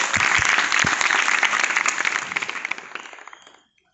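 An audience claps at a school Independence Day event, a loud, dense round of applause that thins into scattered claps and stops before the end.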